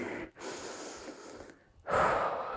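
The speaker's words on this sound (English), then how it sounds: "Breathing in through the nose, out through the mouth. Catching our breath." A person breathes heavily after a skipping rope HIIT round, drawing sharp breaths in through the nose and blowing out through the mouth in a few close, loud, uneven cycles.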